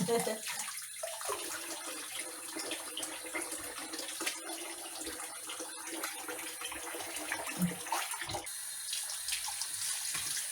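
Tap water trickles steadily into a sink while fish is cleaned for pan-fried whiting, a continuous soft splashing with light handling clatter throughout.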